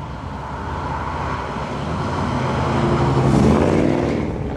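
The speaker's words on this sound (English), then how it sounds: "You still have the incredible, really apt American V8 woofly sound to this." A 1960 Chevrolet Bel Air fitted with an LS3 V8 makes a deep, burbling engine note that swells steadily louder as it builds and then eases slightly, close by and with no voices.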